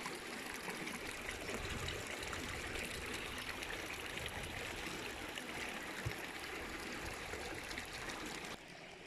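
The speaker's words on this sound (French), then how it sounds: "Ça coule vraiment de partout, quoi. Je sais pas d'où ça sort. C'est une source, j'imagine." Water flowing out of a natural spring, a steady close trickling and gurgling stream that runs continuously and drops slightly quieter at the very end, with no talk.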